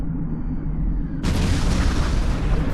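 A ship explodes after flying straight into a mine in the space combat game Infinity: Battlescape, a loud sustained boom that suddenly swells into a bright, roaring blast with no talk.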